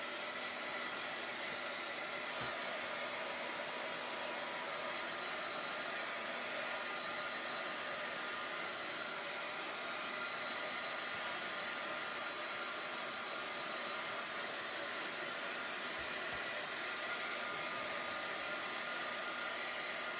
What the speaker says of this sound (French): Je vais sécher un petit peu.